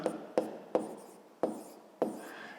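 A pen writing numbers by hand on paper during a fifth-grade maths exercise: five short, crisp scratching strokes about half a second apart, close and fairly quiet, with no voices.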